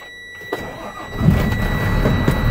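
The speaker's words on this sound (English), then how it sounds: "start the vehicle" A truck's engine is started, probably a diesel with a clutch pressed in: a brief click, then a cranking whir that catches into a loud, steady low rumble close by, with faint clicks over it and no talking.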